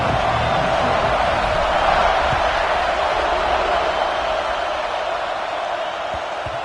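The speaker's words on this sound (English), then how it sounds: "this home crowd is fired up and ready to make a difference today" A home stadium crowd roars in a College Football 26 game between Georgia and Ohio State, a loud, steady, broad wash of cheering that holds evenly throughout without any clear talk on top.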